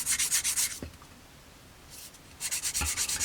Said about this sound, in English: So just turn into the trusty Florey Models sanding sticks again.